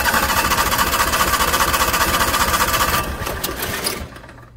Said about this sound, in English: the starter is always cranking